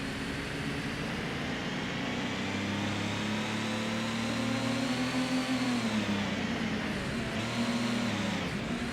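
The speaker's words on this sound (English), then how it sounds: "That's how you drive American muscle cars in this game." An American muscle car engine in Gran Turismo on a 16-bit system, a loud continuous drone that climbs steadily in pitch under acceleration and dips briefly as it shifts gears, heard alone.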